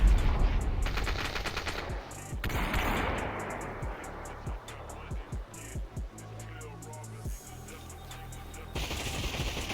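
Gunfire in a multiplayer video game team deathmatch, with bursts of rapid automatic shots and scattered single cracks, fairly quiet overall and mixed with other game effects.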